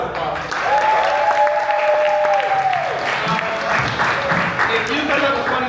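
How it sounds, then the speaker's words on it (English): Audience applause fills a small venue at the close of a sketch comedy show, steady and dense throughout, with cheering voices and a few whoops rising over the clapping. "One more round of applause."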